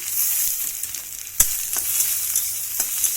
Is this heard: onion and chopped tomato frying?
yes